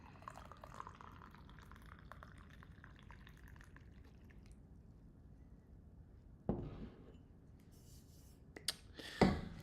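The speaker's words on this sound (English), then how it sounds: "I don't always pour my coffee in front of the camera" Coffee trickles and drips from a Hario 02 coffee server in a quiet kitchen, a faint thin stream followed by a few louder clinks and splashes near the end.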